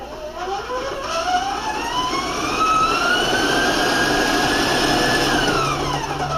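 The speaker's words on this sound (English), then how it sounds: "We're going to start off with a ½ pound of butter into my stand-up here mixer, and I'm going to break it up." Stand mixer beating half a pound of butter, a loud, close motor whine that rises in pitch as it speeds up and then holds steady.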